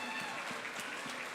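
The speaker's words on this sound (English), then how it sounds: "So please give them a huge round of applause." Applause from an audience at a school Black History Month celebration, acknowledging the staff and theater tech team; steady, dense clapping that fills the whole brief moment.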